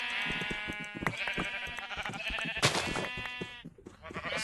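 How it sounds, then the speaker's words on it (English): Sheep in the Minecraft FTB modpack bleat repeatedly, several loud, close, wavering calls layered over game sounds with clicks and chimes, no talk. "There's not exactly a lot of room for the sheep"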